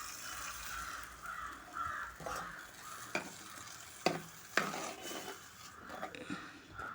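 A spoon scrapes and stirs ground masala paste into sautéed onions and green chillies in a pan for an anchovy fish curry, with soft frying sizzle, a few sharp clinks against the pan, and faint birds calling in the background.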